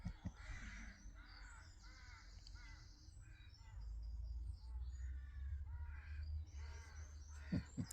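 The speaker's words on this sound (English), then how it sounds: "They're very smart crows." Crows caw repeatedly in a rhythmic series of harsh calls, moderately near outdoors, with a low background rumble and occasional faint talk.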